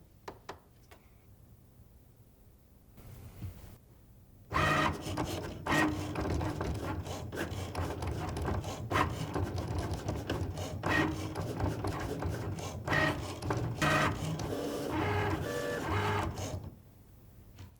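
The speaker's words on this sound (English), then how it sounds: "the machine is actually going to measure our material for us to make sure we have enough before it starts to cut" A Cricut Maker 3 cutting machine runs through its measuring and cutting cycle, a quiet start giving way at about four seconds to a steady, loud mechanical whirring and rasping that holds until it stops near the end.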